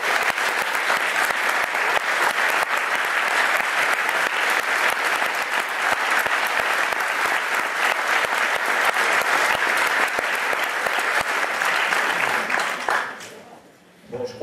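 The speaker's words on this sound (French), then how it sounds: "je crois que vos applaudissements disent, professeur Novoa, ce que je lui disais, c'est-à-dire tous nos remerciements" Sustained, loud audience applause fills a lecture hall at the close of a talk, steady dense clapping that fades out near the end.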